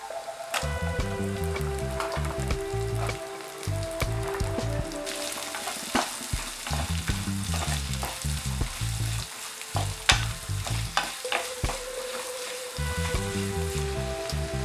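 Loud, continuous sizzling of chopped onions frying in a pan for squid gravy, with repeated scraping and stirring knocks throughout and no voices.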